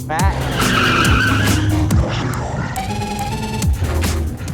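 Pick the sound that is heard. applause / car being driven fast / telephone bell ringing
car being driven fast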